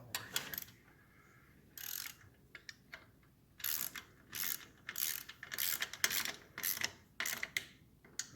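Ratchet wrench clicks in short bursts while snugging bolts on the cylinder head of a 1968 Triumph Bonneville motorcycle, close and clear with pauses between strokes.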